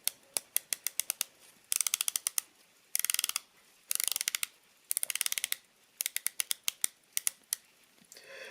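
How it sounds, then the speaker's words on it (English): A Jaeger-LeCoultre Master Compressor diving watch bezel is turned in bursts of crisp, close ratcheting clicks, rapid rows of sharp ticks separated by short pauses, quiet and isolated. "Some of the best bezel action on any watch that I own"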